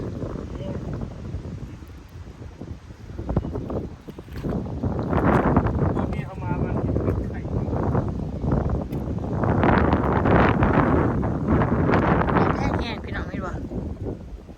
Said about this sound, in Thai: ลมขนาดนี้